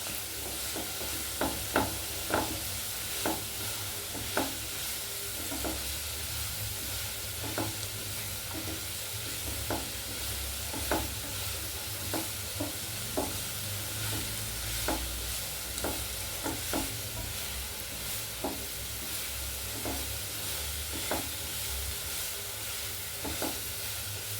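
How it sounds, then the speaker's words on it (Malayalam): Pepper beef roast sautés in a hot pan with a continuous sizzle, while a spoon stirs and scrapes it in regular, fairly close taps throughout. "നന്നായി വഴറ്റി കൊടുക്കുക."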